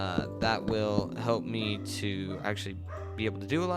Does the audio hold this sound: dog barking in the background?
yes